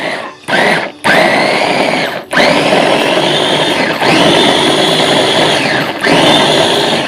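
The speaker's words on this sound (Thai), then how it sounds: "ปลาโคกเอาลงไปสับในเครื่องปั่นนะจ๊ะ" Electric blender coarsely chopping pla khok fish, a loud close motor whine running in several long bursts separated by brief stops and restarts.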